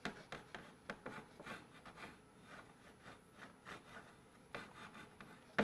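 Omelet being shaken and stirred in a pan with a silicone spatula, faint scraping and rubbing strokes in an uneven rhythm with soft knocks of the pan, heard close and alone.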